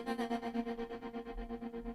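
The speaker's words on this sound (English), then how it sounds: "This next one is echoing back layers." Layered vocal echo-back effect drenched in heavy reverb with long decay and a fast tremolo pulsing through it, repeating in a steady throbbing rhythm for two seconds with no clear spoken words.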